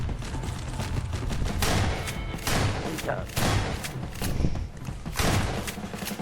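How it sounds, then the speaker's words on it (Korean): Explosion in Garry's Mod, a sandbox game: loud, repeated gunfire-like blasts and thuds roll through the whole stretch, dense and close, with voices talking over the chaos. "폭발했습니다."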